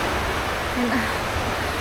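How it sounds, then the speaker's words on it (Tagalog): Heavy rain and strong wind in Pampanga roar as a dense, constant wash of noise, loud and unbroken throughout, with a faint brief sound briefly rising above it midway. "biglang humangin ng malakas at ngayon is umuulan na"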